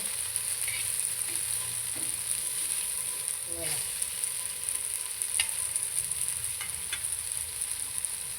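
Whole bombil fish frying in a pan, giving a steady close sizzle with occasional faint pops and a spatula scrape, alone without talk.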